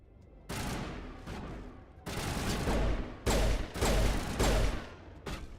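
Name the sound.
gunfire in Mass Effect video game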